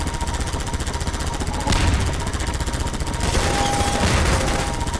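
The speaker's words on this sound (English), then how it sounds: "Oh, we got a machine gun in here." In Half-Life 2, a machine gun fires continuously at close range in steady rapid bursts, a dense rattling stream of shots with a couple of louder surges and thin electronic tones layered in.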